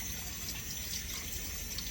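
Running water from a faucet pours steadily as potatoes are scrubbed, a continuous close splashing rush with slight fluctuations, no talk.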